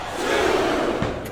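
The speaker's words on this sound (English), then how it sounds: "This capacity crowd is making their opinions known tonight." Capacity crowd at a WWF wrestling event, a loud, sustained roar of shouting and jeering heard up close without commentary.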